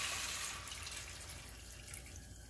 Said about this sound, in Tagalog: Tapos naman lagyan natin ng tubig.